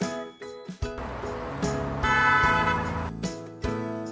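A bicycle bell rings in a run of sharp, bright strikes, some short and some held in a longer ringing stretch, loud and close with no voices.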